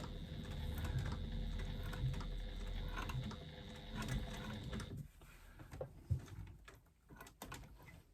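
Sewing machine stitching a zipper pocket, a steady close mechanical whir for about five seconds, then quieter scattered taps and handling noises as it stops.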